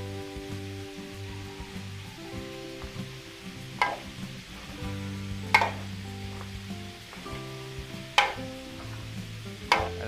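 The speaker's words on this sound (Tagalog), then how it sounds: "Haluin po natin." Potatoes, carrots and liver spread stirred in a frying pan: a soft continuous sizzle with a humming background, broken by periodic sharp scrapes and clacks of the utensil against the pan.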